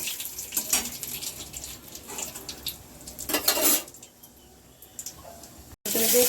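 Diced medium onions dropped into hot oil tempered with cumin and chopped bay leaf: pan clatter and sizzling with utensil scrapes, a louder hiss near the end.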